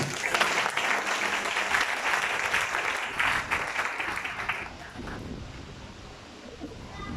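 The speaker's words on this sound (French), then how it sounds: "Acclamez-vous vous-même." A church congregation claps together in a dense, sustained round of applause that tapers off into quieter room noise after about four seconds, with a few voices mixed in.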